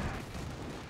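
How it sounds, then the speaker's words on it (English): Howitzer artillery fire in the World War II strategy game Company of Heroes 2 makes a dense, continuous roar of booming gunfire that fills the whole short moment, loud and rumbling, with no talk over it. "Howitzers as well opening fire."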